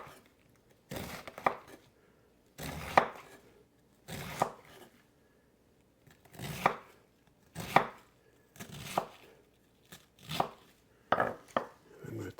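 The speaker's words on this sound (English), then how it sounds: "I'm going to take the cabbage and cut it into chunks" A knife cutting a head of cabbage into chunks on a board, about ten distinct crunchy chopping strokes in uneven bursts with quiet gaps between them, close and clear with no talking.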